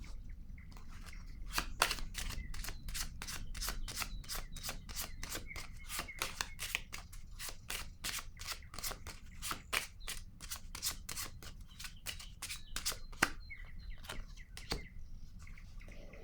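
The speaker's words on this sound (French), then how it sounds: "je vais déposer une carte sur l'univers" A tarot card being dealt onto a table during a reading, heard as a long run of quick, close, crisp card snaps and flicks in a steady rhythm, with no speech over them.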